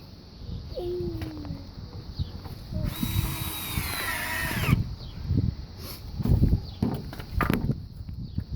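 A cordless drill driving screws into a fence whirs in one strong burst lasting a couple of seconds, with shuffling, thumps and handling noise around it.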